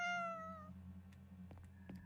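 A cat meows once, drawn out and fairly clear, in the video game Whisper Mountain Outbreak, followed by a low steady hum and a few soft clicks.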